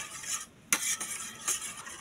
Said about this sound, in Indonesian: Kita aduk-aduk santannya biar nggak pecah.